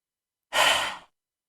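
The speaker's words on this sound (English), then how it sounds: "Let's take our cleansing breath and exhale." A single breathy exhale in a yoga breathing exercise, a cleansing breath lasting about half a second, close and fairly loud, with silence before and after.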